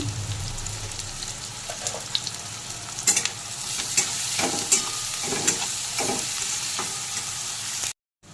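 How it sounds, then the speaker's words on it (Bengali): Chopped onions fry in butter with cardamom, cloves, cinnamon and salt, giving a steady close sizzle broken by scraping stirs at irregular intervals, then a sudden brief silence near the end. "পেঁয়াজগুলো হালকা ভেজে নিয়েছি"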